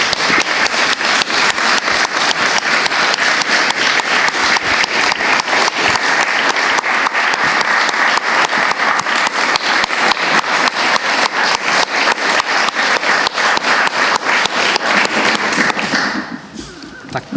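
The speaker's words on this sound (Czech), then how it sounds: "ten dlouhotrvající potlesk" A lecture audience gives long, sustained applause, dense and loud for about sixteen seconds before it thins out and fades.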